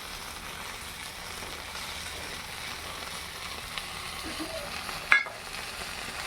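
Rohu fish wrapped in leaves fries in oil in a pan with a faint, steady sizzle, followed by a sharp clatter near the end.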